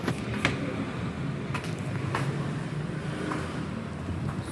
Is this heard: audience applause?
no